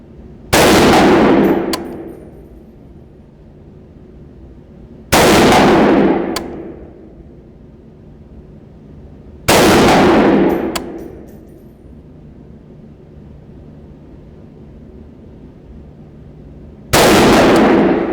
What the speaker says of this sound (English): let's shut the hell up and shoot the thing, Mike.